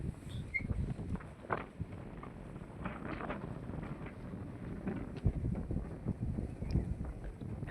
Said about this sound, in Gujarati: અને પવન બી બહુ મસ્ત આવે છે